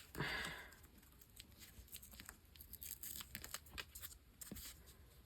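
Paper is torn along the edge of a file folder in a series of close, crisp ripping and crinkling sounds, with small taps and rustles as the strip comes away.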